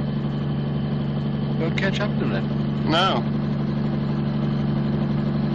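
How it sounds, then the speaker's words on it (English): A car engine governed to 40 mph runs with a steady, even low drone throughout, while people talk over it. "The engine's governed. She won't do more than 40."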